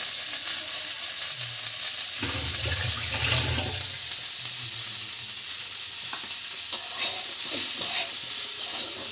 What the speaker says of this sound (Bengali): হালকা করে ভেজে নেবেন